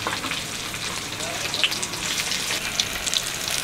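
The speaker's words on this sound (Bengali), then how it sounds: "মাছ ভাজবো।" Fish frying in hot oil, from a home kitchen preparing fried rohu and beet: a steady, dense sizzle with faint crackles and occasional small pops runs throughout at close range, with no talk.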